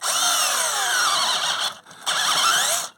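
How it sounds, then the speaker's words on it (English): A power drill winds rubber out of a Vauxhall Astra rear axle bush, whining at high pitch in two bursts with a brief break between them, close and loud. "Eventually it should get hold of the drill and start winding it round."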